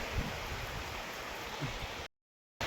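Heavy rain falls steadily in a rural farm setting as a dense, even wash of noise, with a couple of faint knocks, before cutting to silence briefly near the end.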